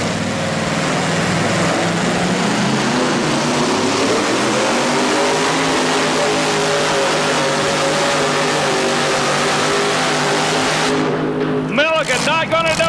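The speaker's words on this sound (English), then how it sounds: "Kentucky Lightning Corvette. Aries engine, 573 cubic inches, alcohol-burning supercharged." A supercharged, alcohol-burning Kentucky Lightning Corvette drag car with a 573-cubic-inch Aries engine roars loud and steady as it launches at a 1987 Huntsville race, its note shifting toward the end, with a commentator talking over it.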